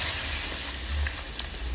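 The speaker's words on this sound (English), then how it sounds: "in that same oil let's add our washed and cut onions" Washed, cut onions sizzling in hot oil left over from frying tilapia, a steady close hiss with faint pops and no talking.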